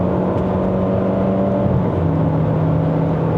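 A Chery Tiggo Cross 1.5 Turbo accelerating on a Malaysian road, heard from inside the cabin as a loud steady engine drone with a shifting tone partway through, with no talking.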